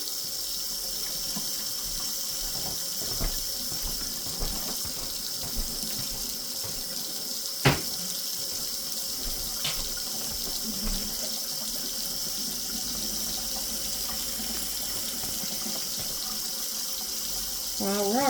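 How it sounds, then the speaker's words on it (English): A spatula is rinsed under a running hot water tap in a kitchen sink, a steady hiss of flowing water with occasional clinks and knocks as it is handled. "Get that under some hot water."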